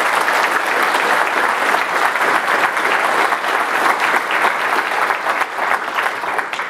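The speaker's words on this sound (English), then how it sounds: "So I just would like to do a little round of applause if we can say thank you." A conference audience at a DevOpsDays event breaks into sustained applause, a dense, steady wash of many hands clapping close by for the full stretch with no break.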